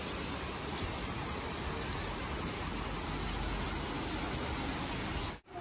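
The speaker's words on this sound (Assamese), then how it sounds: "বৰষুণটো এতিয়ালৈকে আহি আছে" Heavy monsoon rain pours steadily and loudly for several seconds, a dense unbroken hiss with no talking, cutting off abruptly right at the end.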